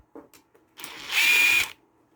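Power tool spinning off the sump bolts on an old lawn mower engine, a short whirring burst of about half a second after a few faint clicks, fairly close and alone.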